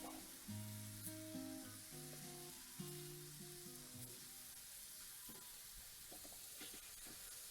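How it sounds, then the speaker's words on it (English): Mini yellow Dutch potatoes sauté in a pan, giving a soft, steady sizzle with a few scraping turns and light clinks near the end, close but quiet, with no talking. "start to turn the potatoes to get the other side sauteed"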